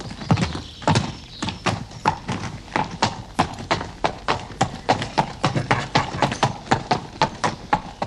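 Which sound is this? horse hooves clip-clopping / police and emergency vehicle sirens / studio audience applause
horse hooves clip-clopping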